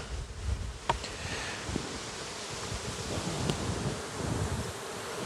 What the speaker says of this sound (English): Try not to smash too many bees.